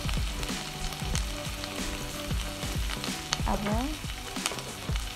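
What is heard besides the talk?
spice paste, turmeric and salt frying in pan for egg curry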